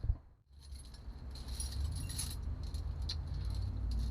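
A car keychain loaded with keys jangles and clinks nearby, with light metallic tinkling over a steady low rumble, continuing through most of the few seconds.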